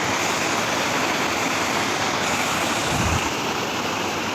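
Jog Falls waterfall pouring and rushing in a dense, continuous roar with no pauses, heard loud and close with some wind buffeting and no talk.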